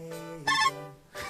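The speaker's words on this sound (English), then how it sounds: "It's a ringtone now. Nokia ringtone." Short Nokia ringtone melody, a few tonal phrases with a louder burst midway, fairly close and clear with no talking.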